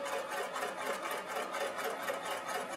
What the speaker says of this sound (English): so that when I stitch I should be exactly 3/4 inch away from that small inner border